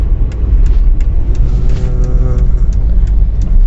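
A car engine rumbles steadily as the vehicle is driven, a loud continuous low drone inside the cabin with faint regular ticking above it, no clear talking.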